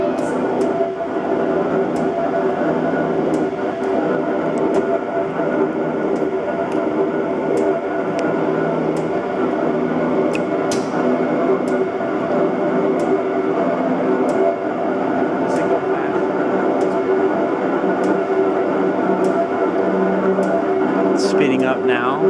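A 75 ton V&O OBI double action press running continuously, a steady mechanical drone marked by evenly spaced sharp clicks from each stroke, loud and close.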